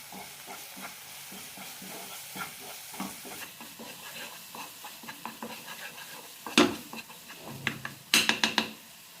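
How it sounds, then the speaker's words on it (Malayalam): Green peas curry masala with chilli powder, roasted coriander and pepper powder being stirred and sautéed in a pan, with steady soft scraping strokes and a faint sizzle, then a few sharper louder clinks of the spoon against the pan near the end. "ഇനി നന്നായി വഴറ്റാം"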